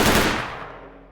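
A loud, close gunshot blast from a weapon in the shooter game Stalker Anomaly, its sharp crack decaying over about a second with a reverberant tail and no voices.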